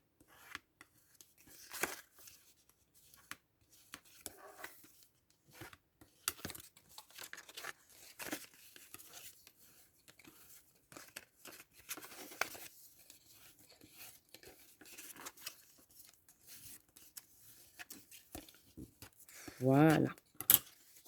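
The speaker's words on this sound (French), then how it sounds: "je vais juste, hop, marquer tous mes plis" Paper being creased and scored along its fold lines while making a pop-up card on a desk: soft scraping and crinkling in short, irregular bursts, ending in a louder rustle of handled paper.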